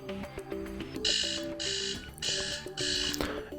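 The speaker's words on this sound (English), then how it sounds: "We can change ringtone." An alarm clock ringtone plays on an Umidigi S2 Lite phone. Four bright electronic beeping bursts sound in an even rhythm over a soft melodic tone, close and clear, with no speech.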